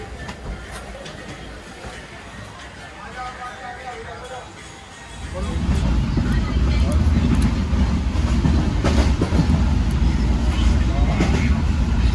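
Passenger train on the Porbandar to Thiruvananthapuram route, heard from inside: a quieter stretch of rumble and chatter, then a sudden louder, steady roar of wheels and carriage noise that persists to the end.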